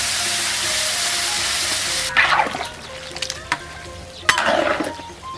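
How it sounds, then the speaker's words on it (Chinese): Beer poured into sizzling chunks of alligator snapping turtle meat: a steady hot-oil sizzle gives way to two loud, splashy bursts of liquid hitting the pan, each fading into bubbling. "再来上四瓶啤酒"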